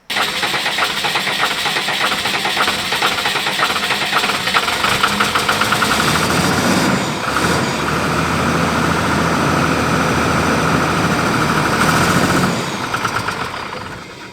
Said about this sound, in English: Then we'll crank it, or hopefully starting it, and we can move it around the yard and it'll stay idling